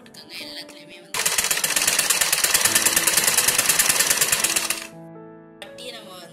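A sewing machine stitches two waistband fabric pieces of a circular palazzo skirt in one fast, rapid-fire run of close clattering stitches lasting about four seconds. Quiet handling sounds come before and after it.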